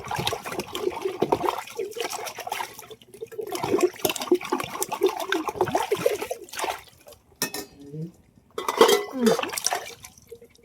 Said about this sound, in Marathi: आता भांडी घासून घेते भरपूर भांडी पडली